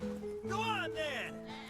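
Goats bleat in a cowboy ranch simulation game, with two wavering, quavering calls in quick succession over a steady droning game background.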